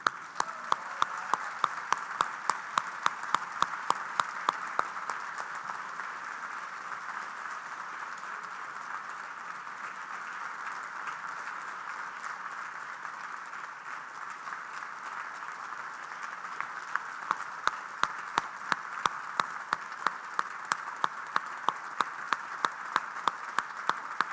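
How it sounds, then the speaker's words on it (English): Long, sustained audience applause at a welcome celebration, a dense wash of clapping that stays steady for over twenty seconds, with sharper individual claps standing out at the start and end. "please make that applause much louder and much longer lasting than the one you gave me"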